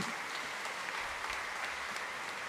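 Brief, steady clapping from a church congregation at a Simbang Gabi anticipated Mass, a soft wash of many hands from across the space lasting a couple of seconds.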